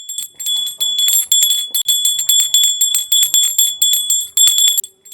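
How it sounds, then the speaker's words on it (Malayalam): A bright bell rings rapidly and repeatedly in quick, insistent bursts, loud and close, with a sustained metallic ring throughout and brief pauses between clusters of strikes. "ഇവരെന്തിനാണ് ഇങ്ങനെ മണിമുട്ടുന്നേ?"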